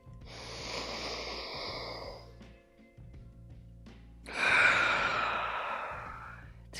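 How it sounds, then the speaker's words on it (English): Slow, deep breaths taken during a breathing exercise with the head lowered toward the chest: a long airy inhale, a short pause, then a fuller, louder exhale, heard close and alone. "you're going to breathe in and lower your head. Breathe out."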